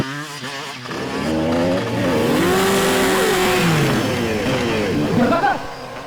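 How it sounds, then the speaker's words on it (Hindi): Motorcycle engine during a bike stunt, revving and rising in pitch with sweeping tonal whines, loud and close, mixed with talk and music. "जिस तरीके से इसने बाइक का स्टंट किया है"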